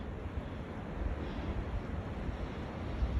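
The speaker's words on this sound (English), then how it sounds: "It's getting windy." Steady wind blowing across a farm near a tractor, a continuous low rumbling buffet with no voices over it.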